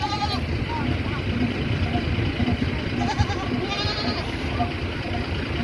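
Goats bleat now and then while being loaded onto a truck in Pakistan, amid a busy, noisy background with people talking nearby.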